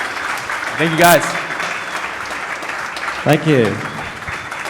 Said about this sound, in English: one last round of applause for Ash, please